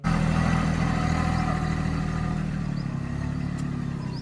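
A tractor engine runs steadily nearby with a low, throbbing rumble that eases slightly toward the end.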